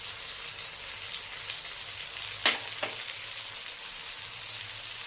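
Spices tipped onto softened tomato for a katla fish curry fry in a pan with a steady, even sizzle throughout, broken by a couple of brief clinks of a utensil midway.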